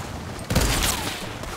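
A short burst of rapid gunfire from the Fortnite video game crackles loud and close, then tails off into a fading echo.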